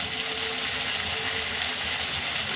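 Tomatoes with coriander powder and red chilli powder sizzle steadily in hot oil for a papad chutney, a close, even frying hiss with no pauses.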